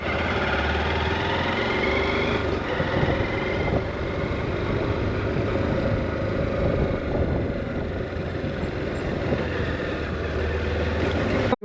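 A BYD car drives along a rough, bumpy mountain road toward Langtang in Nepal, giving a continuous low engine and road rumble with rattling vibration that holds steady for about twelve seconds.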